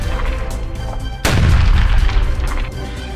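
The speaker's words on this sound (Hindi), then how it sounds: "गाजा के राफा में एक बार फिर इजरायली वायुसेना ने भीषण बमबारी की" Heavy boom from an Israeli air force bombing strike in Rafah, Gaza, a single deep rumbling blast that rolls on for over a second amid continuous low background noise.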